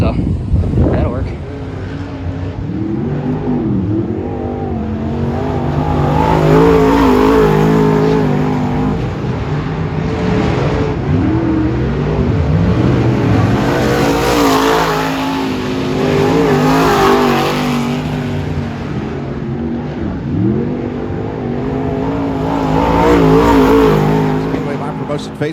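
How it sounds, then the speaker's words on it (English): Extreme Limited Late Model race cars lap Antioch Speedway, engines roaring and revving as they swell past in repeated waves over a constant loud drone, with an announcer talking over the action. "Getting set for Extreme Limited Late Model Series action here at Antioch Speedway"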